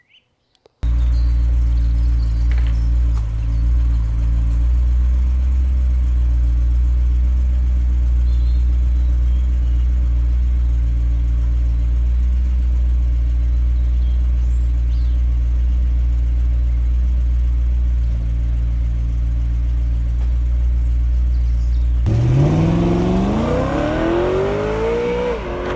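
A BMW M3 E93 V8 drones steadily at low pitch for over twenty seconds, heard from inside the car, before a louder rising roar near the end as it accelerates.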